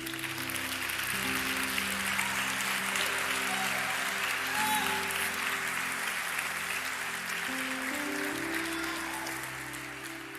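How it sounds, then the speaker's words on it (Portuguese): Church congregation applauding during a sermon, a long sustained wash of clapping that holds steady then slowly fades, with organ or keyboard chords sounding beneath it. "se for aplaudir Jesus, aplaude mesmo."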